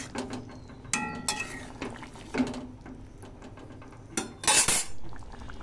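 Taro and fish curry being dished out of a cooking pot: scattered metallic scrapes and clinks of a spoon against the pot, with a louder cluster of clattering near the end, heard close and without talk.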